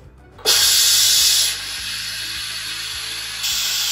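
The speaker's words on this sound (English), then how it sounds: "So the Crockpot Express is now finished. We can switch this off and begin to depressurize." Steam hisses loudly and steadily from the valve of a Crockpot Express electric pressure cooker as it depressurizes after cooking, starting abruptly, easing slightly partway, then swelling again near the end, with no talking.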